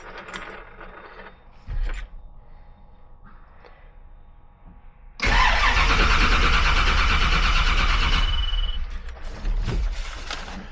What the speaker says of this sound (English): So it is cranking fine.